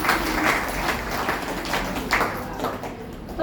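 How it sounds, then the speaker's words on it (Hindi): An audience at a gathering claps in a loose, scattered patter of hand taps that swells and fades over a few seconds. "ताली बजाओ भाई।"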